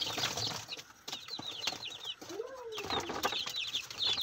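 Week-old Rhode Island Red chicks in a roomier new cage chirp and peep in quick overlapping high calls, fairly quiet and close, with faint rustling and a brief flutter of wings.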